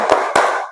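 A class of schoolchildren does a rhythmic spirit clap before a lesson: two sharp, loud group claps in quick succession, the second ringing out briefly.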